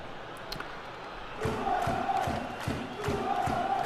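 Stadium crowd in PES 2014 football game chanting rhythmically, a steady roar of massed voices with regular pulsing beats, moderately loud behind the match ambience.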